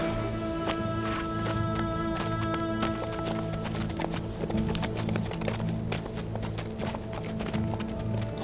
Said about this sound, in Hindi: घोड़े यहीं बांध दो।